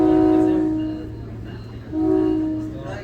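A SMART Nippon Sharyo DMU #112 passenger train sounds its horn in two loud, sustained chord blasts separated by a short gap, close by, with a low rumbling drone underneath.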